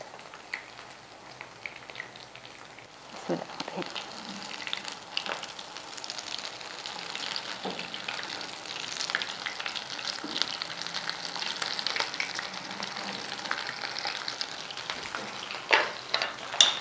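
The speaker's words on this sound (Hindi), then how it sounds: "ऑयल मैंने गर्म करने के लिए फ्राइंग पैन में रखा हुआ है और इसको फ्राई करते हैं" Radish kebabs fry in hot oil in a frying pan, giving a steady, crackling sizzle that swells after a few seconds and holds at an even level, with occasional sharper pops near the end.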